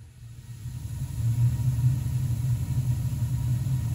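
A Burnham steam boiler's burner lights and settles into a low, steady roaring rumble, rising from quiet to a sustained close hum within about a second and holding there.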